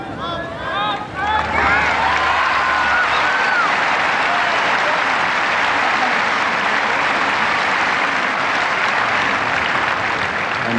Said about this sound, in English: And an equally big cheer for the 1981 Wimbledon champion.